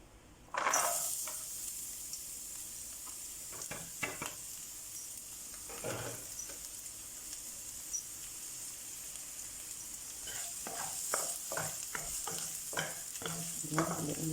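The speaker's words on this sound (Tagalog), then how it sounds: "Pag mainit na yung oil, ilagay na natin ang bawang." Chopped garlic hits hot oil in a pan with a sudden loud sizzle, then keeps crackling steadily while a utensil stirs and scrapes it in short bursts, with no talking.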